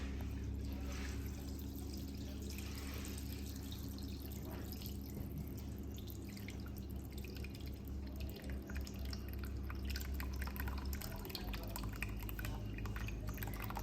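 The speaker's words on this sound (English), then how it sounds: "So just over the sieve, and then you can just pour that straight in." Cheese curd and whey pour through a sieve on a farm, a steady close trickle and drip of liquid running continuously with a low background hum and no talking.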